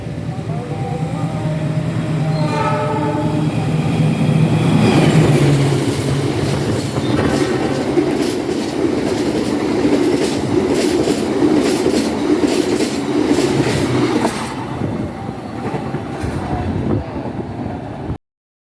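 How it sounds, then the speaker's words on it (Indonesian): Argo Parahyangan express train overtaking the Bengawan train on an Indonesian railway, a loud continuous roar of passing railcars with rapid clickety-clack wheel beats and some squeal, sustained throughout before cutting off abruptly. "Jadi kita lihat yuk kereta api Argo Parahyangan menyusul kereta api Bengawan."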